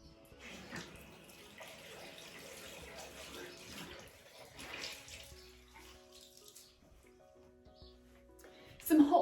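Hot water runs steadily from a tap with a soft splashing hiss, fairly quiet, ending in a brief louder clatter.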